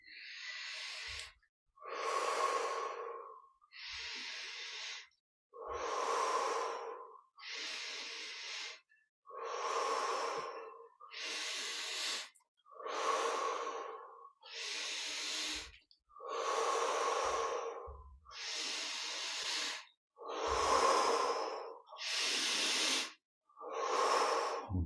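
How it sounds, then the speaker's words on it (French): Slow, steady breaths during a guided meditation, about a dozen long inhale and exhale cycles close to the mic, each separated by a short pause, with no talking. "Conscient que chaque respiration est nouvelle, unique, une nouvelle expérience dans notre vie."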